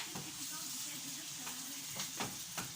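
Shrimp with okra sizzles in a pan, a close, constant frying hiss broken by a few sharp spatters and stirring clicks, with no voice over it.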